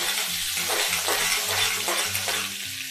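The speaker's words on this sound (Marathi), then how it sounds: "जिरं पण टाकत आहे, त्याला हलवून घेत आहे, मिरची टाकत आहे, मिरचीला पण चांगलं हलवून घ्यायचं आहे।" Cumin and green chillies frying and being stirred in a pan for kande pohe: a steady close sizzle with rhythmic scraping strokes of the spoon throughout, no voices.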